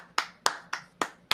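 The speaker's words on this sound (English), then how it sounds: "Standing round of applause for Michael Leone." Five slow, evenly spaced hand claps from one person, close and crisp, during a podcast-style fantasy football best ball draft show; no crowd, just a lone clapper.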